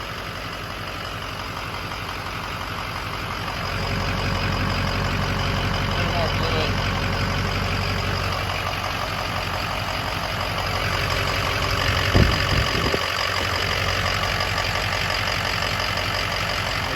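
A 6.0 diesel truck engine runs steadily after a cylinder head repair, a loud, continuous low rumble and clatter heard close up, with a brief knock or bump near the end.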